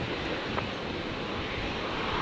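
An aircraft engine roars steadily in the distance at Brisbane International Airport, a broad even rumble on a stormy night with no other sounds standing out.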